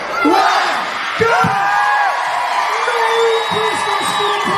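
A crowd at the Newport Christmas light switch-on cheers and whoops after the countdown, loud and close, with shouting voices and tonal music sweeping over the roar.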